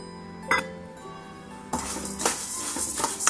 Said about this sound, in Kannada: ಇದರಲ್ಲಿ ತೊಗೊಂಡಿರುವಂಥ ಹುರುಳಿ ಕಾಳನ್ನು ಸೇರ್ಸೋಣ